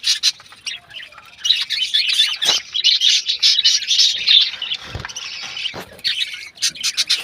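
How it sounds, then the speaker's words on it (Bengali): A group of caged pet birds chirps busily up close while feeding, a dense, continuous stream of high tweets and squeaks with a few short pauses. "এই যে সবগুলো পাখি"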